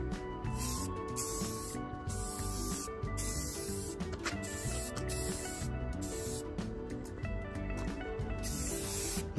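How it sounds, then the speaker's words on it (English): Short bursts of brown spray paint hiss from an aerosol can onto a taped-off radio cabinet, repeated in quick pulses over a low background hum. "I've got the brown spray paint and I've got this taped off"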